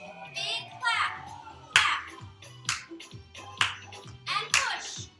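Sharp, loud hand claps land about once a second during a Chair Zumba Gold exercise class. An instructor's voice and rhythmic backing music run throughout.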